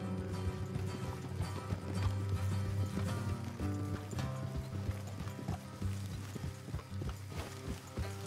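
Horse hooves clop rapidly in a galloping rhythm in Red Dead Redemption 2, alongside a low rumble and steady background noise, fairly quiet overall.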